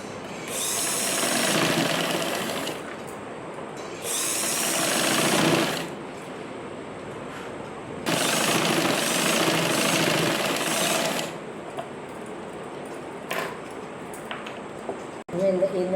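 A sewing machine stitches a back-open blouse in two loud, fast-running bursts of several seconds each, separated by quieter pauses with faint handling noises.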